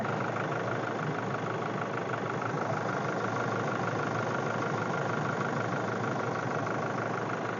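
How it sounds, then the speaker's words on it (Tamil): A Toyota Innova Crysta diesel engine at a used-car lot idles with a steady, even mechanical drone throughout, close and continuous with no talk over it. "வண்டியோட இன்ஜின் சவுண்டை பார்த்தீங்கன்னா நீங்கள் லைவாக கேளுங்க ஒரு அழுத்து தான் ரெண்டு சுத்து தான் சட்டார்னு சுத்தாகி ஸ்டார்ட் ஆயிடுது"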